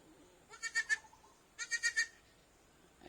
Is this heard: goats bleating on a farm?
yes